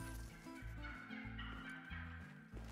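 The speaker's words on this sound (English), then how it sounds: "All right, we got more turkeys." Wild turkeys gobble in the hunting game theHunter: Call of the Wild, a run of rapid, warbling gobbles repeating several times, clear but fairly quiet, with no talking.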